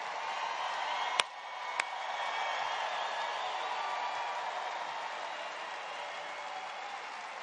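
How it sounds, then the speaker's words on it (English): Sustained crowd applause at a political rally honoring law enforcement officers, broad and steady, with a couple of sharp claps standing out early on. "we should give all of our law enforcement officers a big round of applause to say thank you for what you do"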